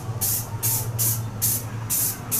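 Spray paint hissing from an aerosol can onto a foam 3D archery target, five sharp bursts in a steady rhythm, close and loud, over a low background hum.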